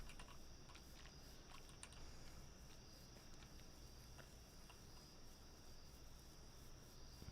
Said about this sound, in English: there's cicadas because I got the windows open